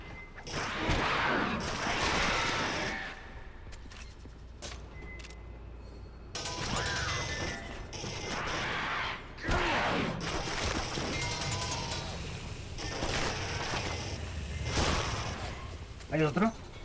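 Shotgun blasts fired at an enemy in Aliens vs Predator on Xbox 360, a string of loud, sharp bangs and mechanical clacks over roughly seventeen seconds, broken by short lulls, with game noise and a voice talking throughout.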